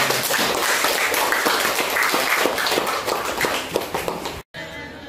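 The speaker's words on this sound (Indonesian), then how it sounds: "Tepuk tangan untuk diri kita sendiri" A group applauds themselves at a school gathering with dense, steady clapping that continues for several seconds, then briefly drops out and resumes more faintly.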